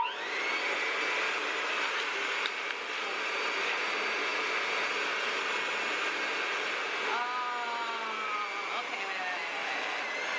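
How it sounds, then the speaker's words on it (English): Dyson Airwrap blow-drying hair, a loud steady whooshing airflow with a high whine that runs throughout, shifting pitch near the end as the attachment moves, with a voice talking over it. "let's just blow dry this hair"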